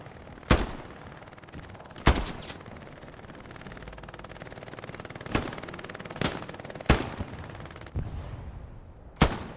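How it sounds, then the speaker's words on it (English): MG42 machine gun fire in Hell Let Loose, heard as several sharp bursts and single cracks spread over about ten seconds above a steady battlefield rumble, some close and loud, others more distant. "MG42 up ahead."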